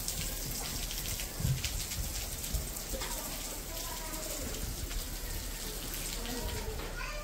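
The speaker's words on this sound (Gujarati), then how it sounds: "બહુ જ પવન છે અને વરસાદ ઓછો" Light rain falling in strong wind, a faint steady patter and hiss running continuously, with soft wind rumble and occasional low knocks.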